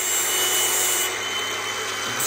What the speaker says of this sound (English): Just smoothing out the edges.